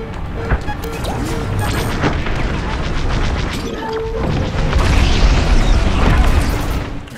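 Star Wars: Squadrons space combat fills with a loud, sustained rumble of crashing, booming blasts as a turret is destroyed, heavy low-end roar swelling toward the end.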